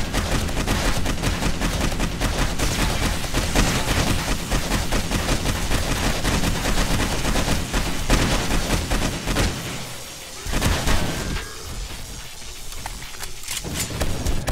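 Automated turret gunfire rattles nonstop in the video game 7 Days to Die, Darkness Falls mod, a dense loud barrage of rapid shots that thins briefly near the end before resuming.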